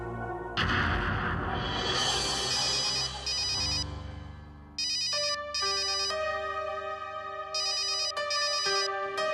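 A melodic electronic phone ringtone plays loud and close, repeating a bright chiming pattern after a noisy burst at the start.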